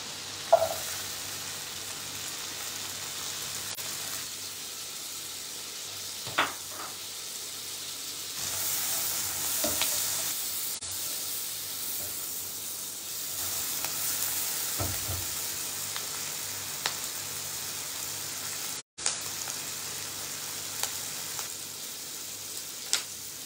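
Garlic and onion frying in a pan, making a soft steady sizzle and hiss with a few scattered stir clicks, moderately quiet and continuous.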